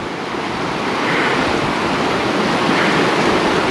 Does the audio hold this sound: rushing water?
yes